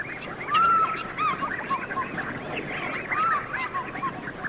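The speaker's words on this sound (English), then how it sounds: "Then the fish eagle calling." Loud, ringing fish eagle calls rise and fall in repeated bursts over a busy background of other birds chattering at an African waterhole.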